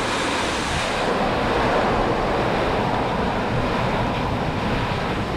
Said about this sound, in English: at the moment it's just really windy